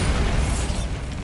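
Bombarda spell blast from Hogwarts Legacy, a dense, rumbling crackle of explosive noise that stays loud for the whole short moment with no voices.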